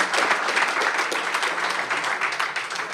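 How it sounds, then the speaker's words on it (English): Sustained applause from a conference audience for a panel on augmented and virtual reality in defense innovation, dense and even clapping filling the room for several seconds. "let's have a round of applause for our panelists."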